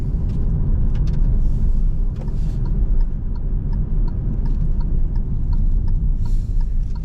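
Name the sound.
2022 Hyundai Venue SEL engine while driving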